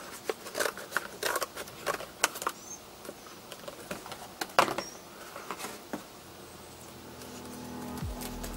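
Small scissors snip fiberglass in quick, irregular bursts of sharp little clicks, close by, with short pauses between cuts and a quiet background.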